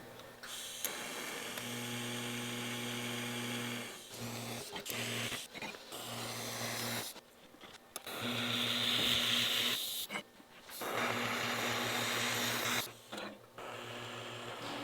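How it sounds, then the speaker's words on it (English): Arc welding pieces of a hammer forging tool, with long bursts of loud crackling, hissing arc separated by short pauses and an underlying electrical hum, close by, no speech. "I got all the pieces here ready to go. I'm gonna weld them up."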